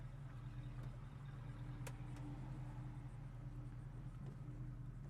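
1966 Ford Mustang with a 289 V8 idling on a hot day in Florida, a low, steady, faint rumble with an even pulsing engine hum and no voices.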